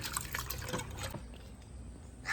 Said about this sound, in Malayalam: വെള്ളം ഇങ്ങനെ വാലാൻ വെക്കും.